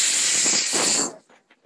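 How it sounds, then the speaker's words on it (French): A Vapodil steam cleaner blasts steam onto a bicycle, a loud continuous hiss for about a second that cuts off, followed by faint clicks and short spurts. "J'envoie la vapeur."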